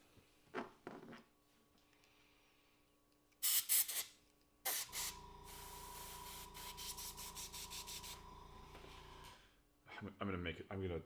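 An airbrush sprays paint onto a leather Halloween mask in a workshop: short, sharp bursts of hiss, then one long steady spray. Quieter clatter and a brief voice-like sound come near the end.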